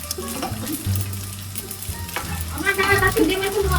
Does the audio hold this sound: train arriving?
no